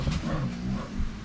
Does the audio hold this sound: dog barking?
yes